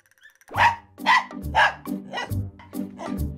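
Several dogs bark at an animal park in Bulacan, giving a close, loud run of about six sharp barks in an uneven rhythm, some overlapping.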